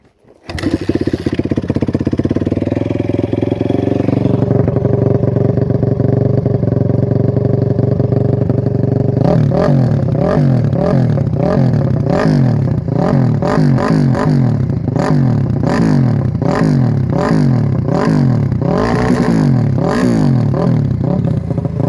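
A 2004 Honda CRF250R dirt bike, a former race bike, warm-starts and idles roughly, then revs repeatedly in sharp, loud bursts that rise and fall close by.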